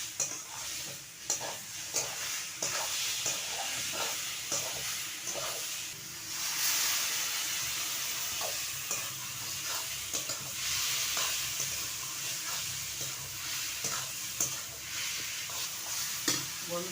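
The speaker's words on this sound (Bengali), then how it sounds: "এবার বেটে রাখা আদা লঙ্কা জিরে বাটাটা আমি দিয়ে দেব" Ground ginger, green chili and cumin paste sizzles and hisses in a pan with fried ash gourd for a Bengali prawn ghonto, stirred with repeated utensil scrapes; close, steady frying with no voices.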